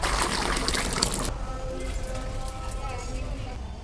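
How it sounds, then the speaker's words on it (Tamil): Water poured into chicken gravy, a loud splashing pour that gives way to a softer trickle and fill, with a voice speaking over it. "நான் வந்து தேவையான அளவு தண்ணீர் சேர்த்துக்கிறேன்"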